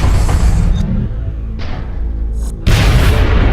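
Gunfire in the turn-based strategy game XCOM Enemy Within: a loud, booming shot bursts out at the start, then a second heavy blast hits near the end over a rumbling game backdrop.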